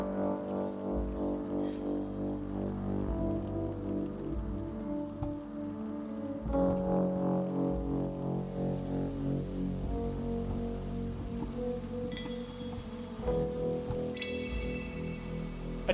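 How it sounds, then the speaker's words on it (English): Rain falling alongside a chilly flowing stream in the video game Traveling at Night, a steady soft wash beneath sustained musical tones and occasional chime-like notes. "A chilly stream of clear water competes against the rain."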